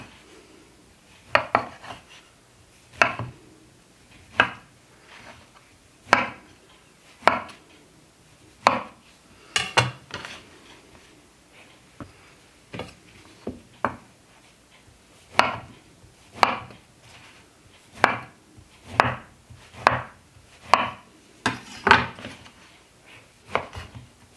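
A knife chops through a sorghum flour bread loaf on a board, a steady series of about twenty crisp, close thunks at an irregular but even pace, with quiet pauses between.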